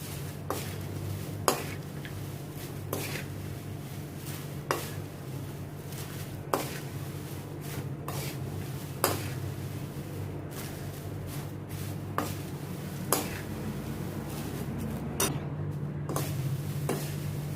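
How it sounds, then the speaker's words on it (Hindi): Roasted poha chivda being stirred in a pan, with quiet continuous scraping and rustling and a sharp spoon tap against the metal every second or two, steady and close at low volume, no speech. "अभी इसको पोहा को मैंने अच्छी तरह से मिक्स कर लिया है"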